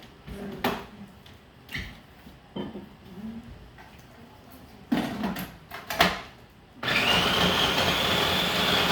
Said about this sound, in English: you get it more thoroughly combined in the food processor